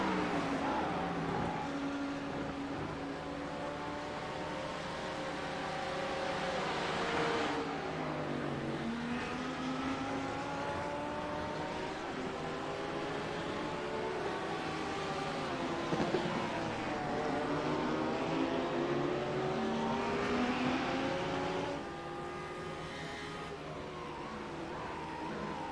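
GT3 race car engines in a sim racing game at the Nürburgring GP circuit, several cars howling together with rising and falling revs through gear changes, a loud sustained pack of engine noise.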